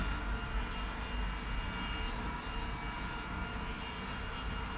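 Steady, continuous drone of an aircraft engine in the War Thunder game, an air realistic battle with a slow work-type plane, holding even and loud throughout with no talk over it.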